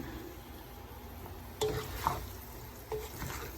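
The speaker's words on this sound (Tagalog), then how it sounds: "Halu-haluin lang natin." Roast pig head with lemon is stirred in a pan over a steady low sizzle, with a few soft clinks and scrapes of the utensil against the pan.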